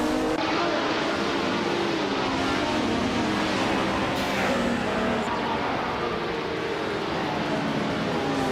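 Engine of a 1971 Ferrari 312 racing car in a racing video game, a loud continuous roar and whine running throughout with other cars' noise mixed in.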